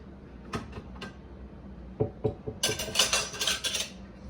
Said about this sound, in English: let me plate my eggs so I can go ahead and have that